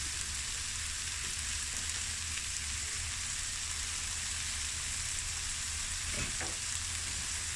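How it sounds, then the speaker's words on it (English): Asparagus stir-frying in a pan sizzles steadily with a soft, even crackle, a continuous hiss at moderate volume with a couple of faint clinks. "Now I'm going to add my asparagus."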